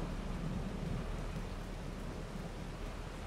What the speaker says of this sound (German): Ja, es regnet ja auch.